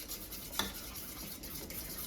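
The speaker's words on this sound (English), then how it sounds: "you just keep stirring it until it's nice and smooth" A utensil stirs an egg mixture in a bowl after the last egg goes in, a soft, steady scraping with one brief louder scrape, faint and close, with no talking.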